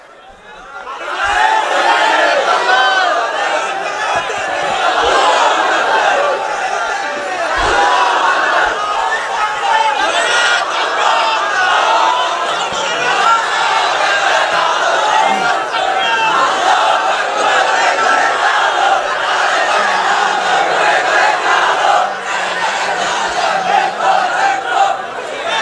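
A large crowd chants slogans in unison at an Islamic sermon gathering, a loud continuous roar of massed voices sustained throughout.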